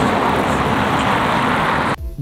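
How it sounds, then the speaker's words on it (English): Steady roar of passing cars on a busy high-traffic road, picked up from a distant camera position as a continuous broadband wash that cuts off abruptly near the end. "I am standing very close to this high traffic road, yet the unwanted traffic noise is not so bad."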